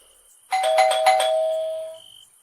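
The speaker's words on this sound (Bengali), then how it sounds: "ধীরে ধীরে এগিয়ে গিয়ে কলিং বেল টিপল" A calling bell pressed at a house door in a Bengali horror audio story gives one bright electronic chime that rings steadily for about a second and a half and then cuts off, heard alone with no voices.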